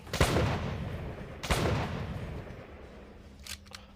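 Two heavy gunshots ring out about a second apart in a train-monster shooting video game, each blast booming and decaying slowly, followed by a fainter clicking sound near the end.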